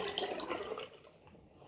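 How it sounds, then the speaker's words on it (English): Tap water runs into a sink while glitter is rinsed away, a close, gushing splash that softens and thins toward the end of the short stretch. "So usually I just run the water and try and get all the glitter there."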